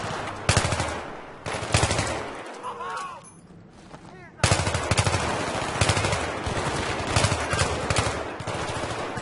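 Rapid automatic gunfire and shots from the video game Battlefield 3, loud bursts repeating throughout, dropping briefly in the middle before resuming, with voices talking over the shooting.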